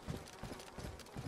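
Footsteps climbing down a ladder in a game, a run of evenly spaced, muffled thuds and clanks repeating about every third of a second, fairly close and steady with no talking.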